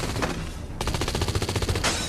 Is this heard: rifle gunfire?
yes